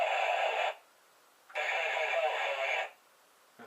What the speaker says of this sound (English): 3 bits of radio chatter.